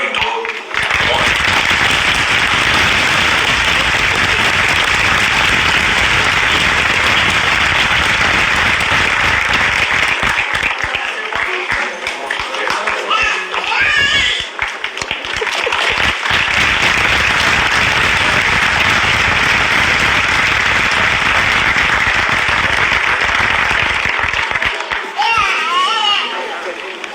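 Funeral audience for DMX (Earl Simmons) applauding and cheering, a dense, loud wash of clapping and crowd noise that runs nearly unbroken for the full stretch, with children's voices and brief dips partway through.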